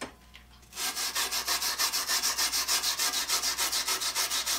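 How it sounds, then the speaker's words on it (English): A small brass wire brush scrubs vinegar-loosened rust off a carbide-tipped circular saw blade, a rapid rhythmic back-and-forth rasping that starts abruptly and repeats in even close strokes. "This is just a little brass wire brush."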